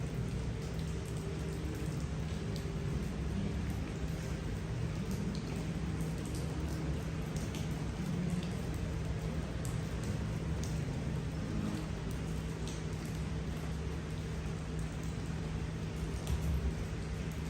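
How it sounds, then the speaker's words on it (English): Steady rain falls on a gray day in Munich, a continuous dense hiss of raindrops on hard surfaces with a faint low hum of city traffic underneath, unbroken throughout. "it's a rainy, ugly day today"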